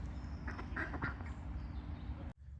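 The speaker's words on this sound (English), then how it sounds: "A cool duck kind of thing I've never seen before." Duck quacking in a Geneva park, several bursts in quick succession against steady outdoor background noise, moderately near, then a brief cutoff and quieter ambience at the end.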